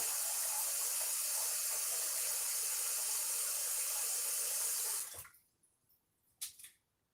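Cold water runs from a tap in a steady, hissing stream for about five seconds, then cuts off, followed by a few faint drips and small clunks.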